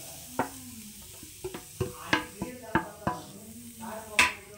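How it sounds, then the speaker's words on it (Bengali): Grated coconut being stirred in a pan for a pitha filling: a series of sharp scraping and tapping strokes of a spoon against the pan, about ten irregular knocks over a faint background sizzle, close by, with no speech. "এখানে একটা প্যান বসিয়ে দিয়েছি আর প্যানের মধ্যে দিয়ে দিচ্ছি নারকেলগুলো"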